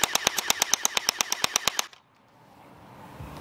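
P90 gel blaster toy gun firing rapid bursts, about fifteen sharp evenly spaced clacks in quick succession, loud and close, then stopping abruptly into quiet room tone.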